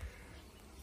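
A soft, steady buzzing of honeybees at a hive, during transfer of the bees to another hive, fills the brief moment, faint and continuous with no voices.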